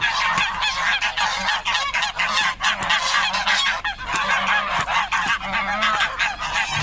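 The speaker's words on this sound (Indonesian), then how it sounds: "Wih, hewan angsa, teman-teman." Geese honking loudly and continuously, overlapping nasal calls forming a dense chorus close by, with no speech over it.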